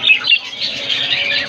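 A pair of caged red-eyed crystal birds at the Korangi bird market give bright, close chirps and short squawks over a constant busy twittering of many birds.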